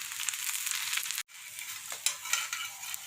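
Sajjige holige (obbattu) fries in a little oil on a pan with a steady, bright sizzle, close and continuous. It breaks off briefly once, then resumes with a few crackling pops. No one talks.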